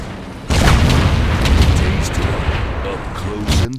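A tank cannon fires in a Type 61 video game match: a heavy, booming blast bursts in abruptly and rumbles with a long, loud decay, and a second thump comes near the end, under speech.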